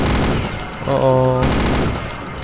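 Minigun in the Wolfenstein video game firing a rapid sustained burst of gunfire lasting about two seconds, loud and close, with a brief buzzing tonal shift partway through.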